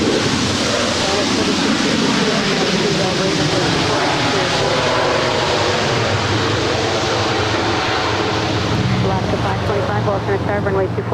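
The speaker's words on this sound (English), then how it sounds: "This next arrival is United 1545 coming in from San Francisco. It's an 11-year-old 737-800." A United Boeing 737-800 airliner, eleven years old, arrives at Los Angeles airport, its engine roar a broad, steady rushing drone that holds loud and constant, with a faint voice under the noise.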